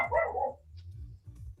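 A dog barks once close by, followed by softer, lower woofs and grumbles from dogs, with brief quiet gaps between them.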